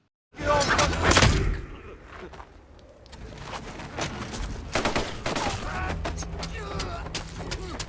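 Gunshots ring out in the war film Sisu, an opening loud blast followed by a scattered volley of sharp reports and cracks over a tense background, heard up close and fairly loud.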